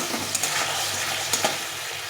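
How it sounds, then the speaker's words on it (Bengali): Spice masala for aloo dum sizzles steadily in hot oil, with a soft continuous frying hiss and a couple of brief scraping stirs of the spatula, close and fairly quiet. "যতক্ষণ তেল না ছাড়বে ততক্ষণ মশলাটাকে কষে নিতে হবে"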